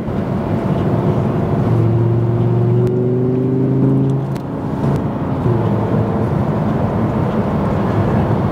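A 2017 Audi R8 with a naturally aspirated engine accelerates, a loud rising whir of engine tone with road and wind noise that climbs, dips briefly, then settles into a steady roar.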